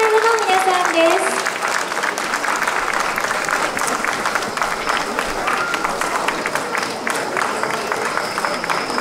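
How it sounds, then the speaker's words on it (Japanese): Audience applause at a traditional umbrella dance festival welcomes an elementary school's dance club, a steady wash of clapping throughout while a voice speaks briefly over the opening moments. "どうぞ大きな拍手でお迎えください。"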